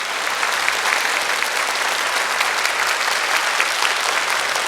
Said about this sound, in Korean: 여러분의 큰 박수가 필요합니다.